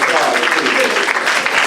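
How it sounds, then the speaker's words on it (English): A conference audience claps in a dense, continuous burst of applause, loud and close. "Let's give Elvis Robin a applause."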